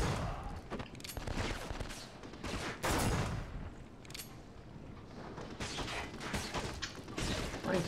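Gunfire from the video game Black on PS2, with continuous dense bursts of shots and booms filling the clip at moderate level and no speech over it.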